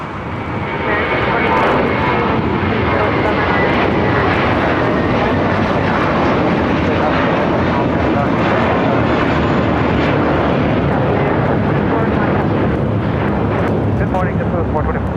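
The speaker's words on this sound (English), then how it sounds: "This is JetBlue, Flight 424, taking off to JFK on an A321 in the first Mint livery." A JetBlue Airbus A321 in the first Mint livery takes off at LAX, its jet engines giving a loud, steady, broadband roar that holds for the whole stretch, with faint voices in the background.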